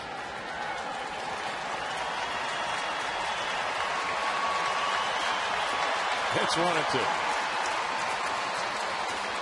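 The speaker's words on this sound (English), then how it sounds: "He thought they were cheering for him," A baseball stadium crowd cheers at a St. Louis at Houston game, a steady, broad roar that swells slightly partway through while a commentator talks over it.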